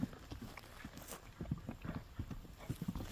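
Kyrgyz horse galloping on hard ground, its hooves clip-clopping in a quick, steady rhythm that stays close and fairly loud, with no voices over it.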